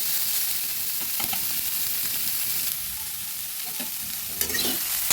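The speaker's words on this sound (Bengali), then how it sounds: "বেশি আঁচ দিলে তাহলে সয়াবিনগুলো পুড়ে যাবে ওই জন্য হালকা আঁচে ভেজে নিচ্ছি" Soybeans fry in a pan over low heat, giving a steady soft sizzle broken by scraping stirs of a spatula, close and alone without talk.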